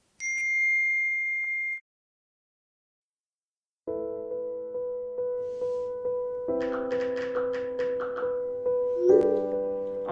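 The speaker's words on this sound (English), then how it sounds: "I got a notification from someone who I thought was my friend" A phone notification chime rings once near the start, a clear sustained ding, followed by a pause and then soft melodic background music.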